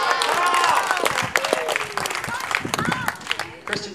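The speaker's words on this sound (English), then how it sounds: "line up so we can give you another round of applause" Clapping breaks out across a crowd at a Year 7/8 district tournament prize-giving ceremony, brisk and scattered, overlapping with voices and thinning toward the end.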